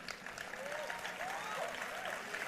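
Audience applause at a talk, a sustained patter of clapping with cheering mixed in from a crowd, moderately faint and continuous throughout.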